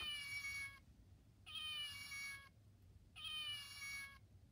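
Three drawn-out meows spaced evenly apart, faint and a little distant, with quiet background noise between them; a voice mimicking a cat.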